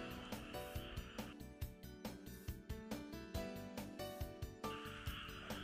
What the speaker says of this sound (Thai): บรรดากบทั้งหลายหน้าบ้านกำลังร้องอยู่นะคะ